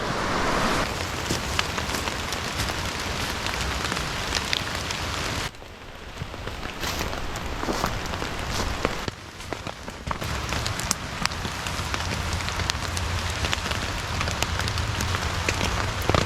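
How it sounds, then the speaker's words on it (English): Heavy rain pouring down in a dense, continuous roar, drumming on a camping tarp overhead, with a brief lull before it picks up again. "the rain started picking back up, so we're back under cover."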